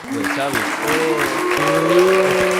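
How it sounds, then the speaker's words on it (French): A crowd boos and applauds at once, with drawn-out vocal jeers over a bed of continuous clapping, fairly loud and close throughout the short burst. "quel public hue et applaudit en même temps?"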